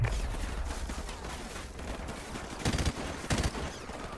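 Dense, continuous gunfire in Call of Duty: Modern Warfare Remastered with a steady crackle throughout and two louder bursts of shots near the end, close and heavy, no talking.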